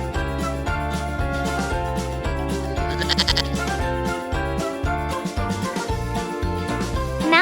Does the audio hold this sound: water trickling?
no